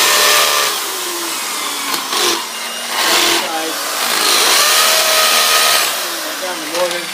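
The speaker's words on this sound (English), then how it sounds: "So I'll just keep drilling until I can't drill anymore" A power drill bores into the mortar around a fireplace while a metal surround is being fitted, giving a steady high whine that surges and dips in short bursts.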